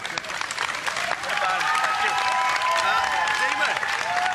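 A television studio audience applauds a band, a dense wash of clapping that swells after a second and stays loud and sustained, with voices and faint whoops mixed in beneath.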